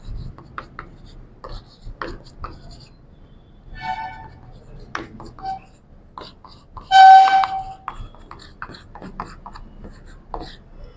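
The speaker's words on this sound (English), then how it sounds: "So let me write another code snippet." A teacher writes a code snippet on a classroom board, producing short, irregular scratches and taps, with one brief sharp squeak partway through and faint background voices.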